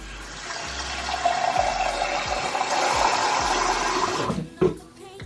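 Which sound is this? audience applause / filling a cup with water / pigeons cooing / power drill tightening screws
filling a cup with water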